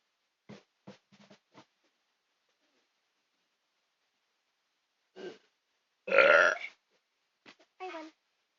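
Burps in a burping contest: a few short, quick belches, then a pause, followed by a loud, drawn-out burp and two more brief ones, close and dry against silence.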